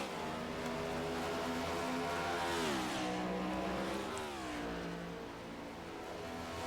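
Race cars in an iRacing sim race run under steady engine drone, with revs rising and falling as a car shifts and accelerates, continuous and fairly close.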